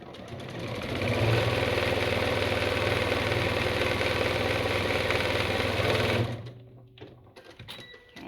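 A sewing machine stitches a seam on a beginner fabric basket, a steady rapid mechanical whirr that holds for several seconds before stopping and leaving small handling sounds.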